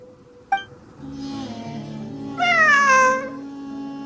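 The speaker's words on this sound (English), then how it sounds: "It really is a cat." A cat meows twice: a short, sharp call first, then a longer, rising and falling meow near the middle of the clip, heard close and clearly above a steady low hum of background music.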